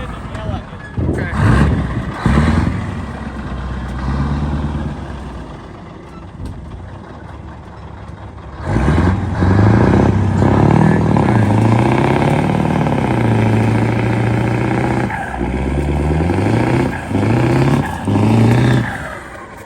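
A Scania truck fitted with new high-output injectors revs hard while doing donuts in its lowest gear, the engine note rising and falling in loud sustained surges, with people talking over and between the revs.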